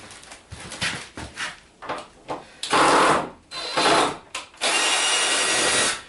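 A power drill backing screws out of a shattered 70-inch TV, close and loud, in a series of short whirring bursts followed by longer sustained runs, with no talking.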